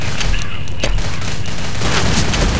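Rapid, loud gunfire from the video game Left 4 Dead fills the whole stretch as a dense, continuous volley of shots with occasional heavier booms, without pause.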